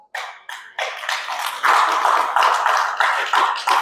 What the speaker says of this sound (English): If you want to clap, clap nicely.